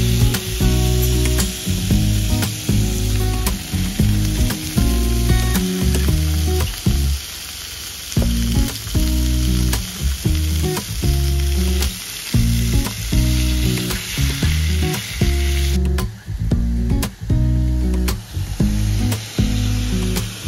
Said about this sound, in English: Now to the pan, I've added a little bit of cream and a little bit of Dijon mustard, stirring that up, letting that cook down for a little bit